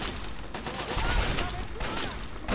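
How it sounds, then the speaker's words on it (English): Rapid bursts of gunfire in the Fallout 3 video game fill the clip with dense, continuous crackling shots at fairly close range, mixed with other game noise. "some people are shooting"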